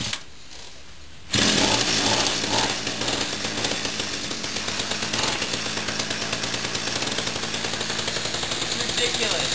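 A small weedeater (string trimmer) engine fitted to a bike roars to life after a brief quiet moment, then keeps up a loud, close, steady buzzing run with a fast rhythmic pulse.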